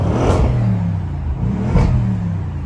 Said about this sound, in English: open up those valves a little bit. Let's get a few revs.